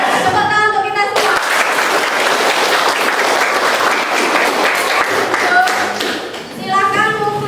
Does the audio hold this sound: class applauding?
yes